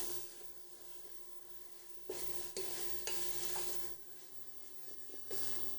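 Spices and browning beef being stirred around a chili pot, with a few sharp scraping clanks over a soft steady sizzle, close and fairly quiet.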